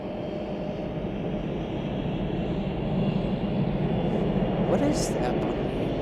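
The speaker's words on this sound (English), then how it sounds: "Let's go back to our A350, our Lufty A350" A Lufthansa Airbus A350 airliner at Chicago O'Hare produces a broad, steady jet roar, moderately distant and slowly swelling toward the end, with a brief higher whine near the finish.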